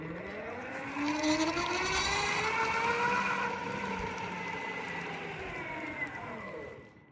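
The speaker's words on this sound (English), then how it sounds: "I still get the same grinding sound, which leaves me with that it's the motor." Grinding motor in a Tynee Explorer drive train, a loud whirring whine that rises in pitch as it accelerates, holds, and then slowly drops away.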